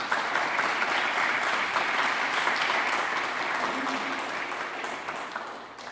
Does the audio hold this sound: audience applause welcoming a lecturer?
yes